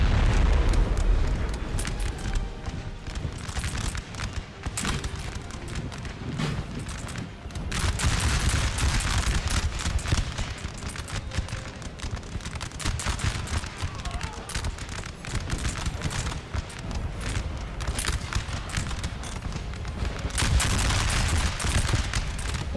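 Artillery and musket fire on a Napoleon Total War battlefield, a continuous rumbling barrage of crackling volleys and booms that swells in places, with a voice speaking faintly under it.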